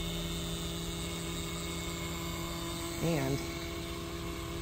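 DeLorean fuel distributor and injectors running on a test bench, a steady high buzzing hum with a brief warbling pitch change near the end, faint and continuous with a short spoken word.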